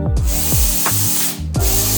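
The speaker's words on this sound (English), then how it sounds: "Or use your drill." A power drill whirring loudly and close while loosening guitar strings, its motor pitch dipping and rising in short repeated spins across two seconds.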